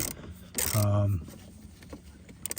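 A short ratcheting and clicking burst as a 10 mm bolt is tightened on the windshield wiper linkage of a 2015 Chevy Cruze, followed by faint mechanical handling.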